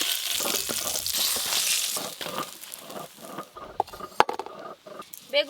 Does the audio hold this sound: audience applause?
no